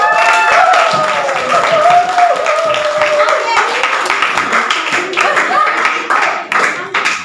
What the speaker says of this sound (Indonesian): mari kita berikan tepuk tangan untuk kelompok